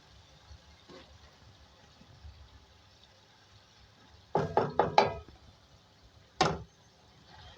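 Fried potatoes dropped into masala in a pan: a quiet stretch, then a cluster of quick thuds and clatters as pieces land and are stirred, followed by one more knock.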